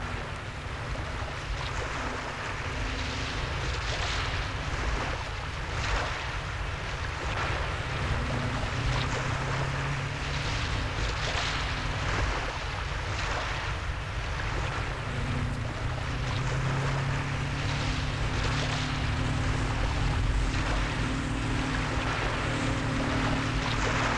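Water taxi boat crossing the open ocean, a steady, close rumble of engine and rushing water with wind buffeting the microphone throughout, no voices.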